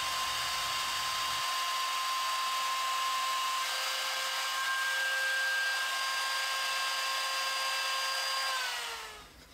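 A router spins at a steady high-pitched whine while cutting a part for a scale model, sustained and loud throughout, then winds down at the end with the pitch dropping as the motor slows.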